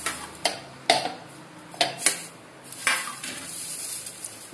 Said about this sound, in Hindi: तो मैं इसमें डाल दूंगी सारी मेथी।